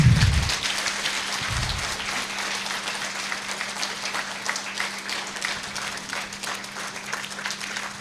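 Sustained applause from an audience at an International Women's Day 2024 gathering, clapping for the men asked to stand; dense, even clapping continues throughout over a faint steady hum.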